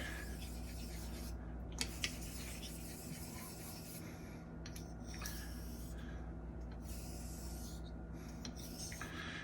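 A Thiers-Issard straight razor is honed on a wet stone with slurry, giving a faint, soft rhythmic rubbing and scraping over a steady low background hum.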